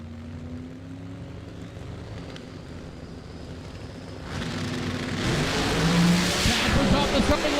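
A Pro Street drag race car at a PDRA event at GALOT Motorsports Park launches off the starting line, a loud engine roar swelling midway over crowd and track ambience while an announcer talks.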